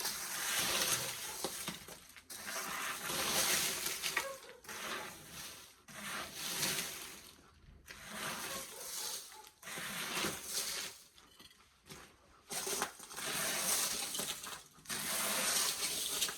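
A rake scrapes and rubs debris across a concrete sidewalk in repeated long strokes with brief pauses between them, close and fairly loud throughout.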